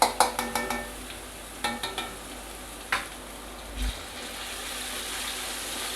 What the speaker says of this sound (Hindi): अब हम इसमें अदरक लहसुन का पेस्ट डालने हैं।